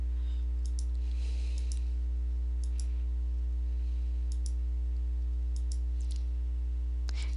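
Computer mouse clicks in QuickBooks accounting software: faint, sharp single and double clicks scattered at irregular intervals over a steady electrical hum, with no talking.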